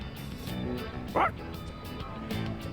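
A dog in the Persona 3 Reload video game gives a short yelping bark that trails into a whimper, one brief cry over low background game music.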